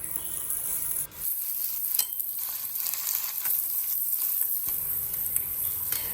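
Shallots and onion fry with salt in a pan while being stirred, a close continuous sizzle broken by scraping strokes of a spoon against the pan.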